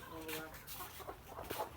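Layer hens on a poultry farm cluck in short, soft bursts close by while people talk over them.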